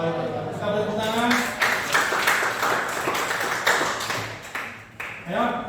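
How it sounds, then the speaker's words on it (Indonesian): Classroom applause breaks out for a group presentation, a spread of quick, uneven claps from many hands running throughout, with voices speaking over it at the start and end. "Kita beri tepuk tangan."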